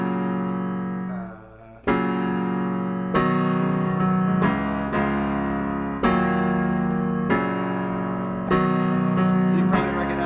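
Solo piano plays the bridge of a song in a tutorial setting, with repeated sustained chords struck about every second and a rising movement, close and steady after a brief quiet dip near the start.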